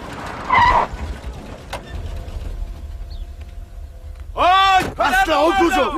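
A car swerves hard to cut off another car, giving two loud bursts of tire squeal and engine roar near the end that follow a quieter stretch of engine hum and shouting voices.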